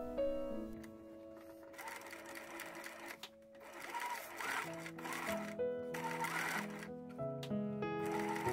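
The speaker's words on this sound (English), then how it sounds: "I stitched the front and the yoke together." A sewing machine stitches the front and yoke of a 1944-style vintage dress made from a modern Butterick B6485 pattern, running in a steady, continuous whir over a tonal background throughout.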